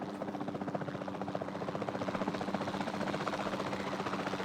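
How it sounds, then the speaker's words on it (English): Capture team helicopter in the video game Jurassic World Evolution 2, its rotor making a steady, rapid chopping thrum that grows slightly louder, with no talking. "Then the sensible thing is to take a capture team helicopter."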